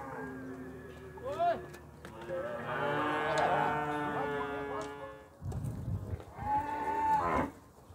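Cattle at a livestock fair in Campina Grande moo in several long, loud, drawn-out calls close by, with a busy crowd and handling noise in the background.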